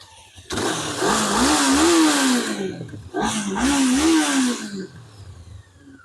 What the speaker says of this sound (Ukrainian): Я ще для тесту просто заведу мотоцикл